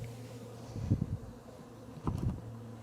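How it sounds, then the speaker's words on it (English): Honey bees buzz steadily all around an open hive during inspection, a low droning hum that swells twice as insects pass close. "A lot of bees all around here."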